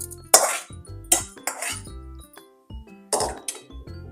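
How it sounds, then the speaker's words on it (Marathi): Mashed pav bhaji vegetables going into a pan of sautéed spices, with several distinct clanks and scrapes of a metal spoon against the pan spaced over a few seconds, close and moderately loud, with no talking. "आता आपण ह्यामध्ये मॅश केलेली पावभाजी टाकूया."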